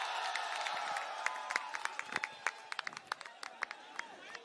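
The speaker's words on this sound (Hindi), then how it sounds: "जोरदार तालियां हो जाए सर के लिए।" A large crowd at a political rally at Jantar Mantar in Delhi breaks into sustained applause, with sharp individual claps and scattered cheers rising over a steady murmur, heard from a little distance.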